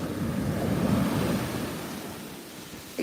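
Ocean waves roll in at a beach, a broad washing roar with wind buffeting the microphone, swelling then easing off, with a brief thump near the end.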